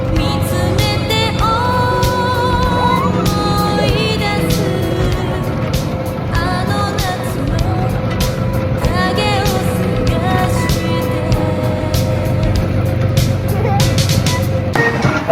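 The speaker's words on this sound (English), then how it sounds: "Me and Elsie got into the go-kart and we competed" Go-kart engines race at a fun park, a steady droning motor sound running throughout, loud and continuous with shifting pitch, with voices mixed in.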